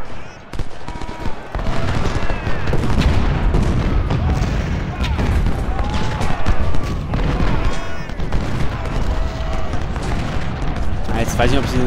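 Gunfire rattles through a battle in the Civil War strategy game Ultimate General: Civil War, dense crackling volleys and booms layered continuously for several seconds, with someone talking in German throughout.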